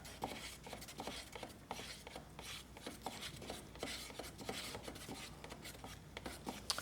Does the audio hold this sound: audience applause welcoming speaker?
no